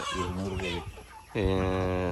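Native country chickens on a small farm cluck in a steady string of short, near calls, with a brief pause before a louder burst of clucking; a voice may be mixed in.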